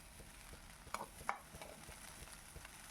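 Egg chicken fried rice with black pepper is stir-fried in a pan with a faint, steady sizzle, broken by two sharp scraping clinks of the spatula near the start.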